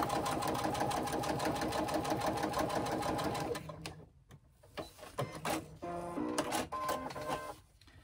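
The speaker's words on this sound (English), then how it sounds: "And baste the other side seam." A sewing machine stitches a basting run along a side seam in a fast, even mechanical rattle for several seconds, then stops and gives a few short bursts with clicks and handling sounds between them.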